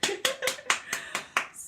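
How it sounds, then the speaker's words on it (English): Hands clap seven times in a quick, even rhythm, close and crisp, as a small round of applause during a beginner piano lesson. "give yourself a round of applause"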